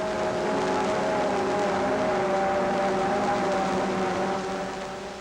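Stock 1957 Mercury outboard engines on racing boats drone steadily as the boats line up on the approach to the start at Cypress Gardens, Florida, a continuous loud buzzing roar with sustained engine tones.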